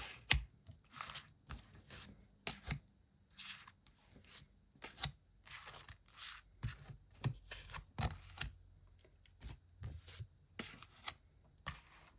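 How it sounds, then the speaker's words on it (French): Tarot cards being handled and laid out on a table: a series of brisk slaps, shuffles and soft crunchy flicks in an irregular rhythm, close and fairly quiet, with no talking. "je vais positionner les cartes"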